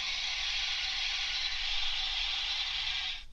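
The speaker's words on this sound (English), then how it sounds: "The blower." A steady, even rushing hiss from a steam locomotive blower plays continuously and then cuts off abruptly. It comes from a Hornby TXS HM7000 sound chip fitted in a Hornby R30283 BR Coronation model engine.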